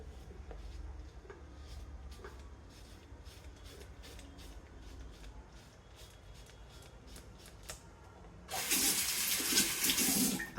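Hot water runs from a tap during a shave with an old blade. Faint clicks and handling sounds come first, then a loud, steady rushing hiss of water starts near the end and continues.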